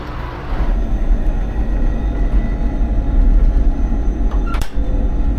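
A steady low rumble inside a moving Amtrak passenger train, rattling and rolling continuously, with a brief sharp hiss or clank near the end.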